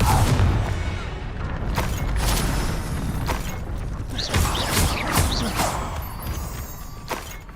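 A Confringo spell blast in the video game Hogwarts Legacy: a series of muffled thuds and cracking bursts at moderate volume, spread out over several seconds against a creaking, mechanical ambience.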